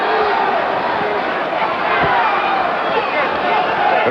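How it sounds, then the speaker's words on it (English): Boxing crowd at a hometown title fight, a dense, steady roar of voices with scattered hoots and shouts, loud and continuous throughout. "Crowd's starting to hoot a little bit, even in his own hometown."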